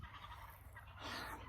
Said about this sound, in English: Listen to all them crazy turkeys.